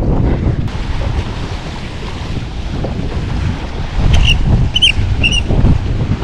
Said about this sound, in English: Got a horrible wind over tide situation.